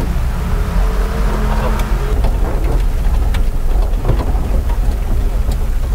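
Heavy rain pours steadily as a loud, dense hiss with low rumbling underneath, close and unbroken throughout, falling on a rural road where a 150cc mini jeep is being collected.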